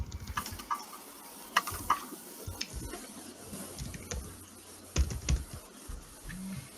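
Keys on a computer keyboard click in quiet, irregular bursts with short pauses between them, close by and fairly soft.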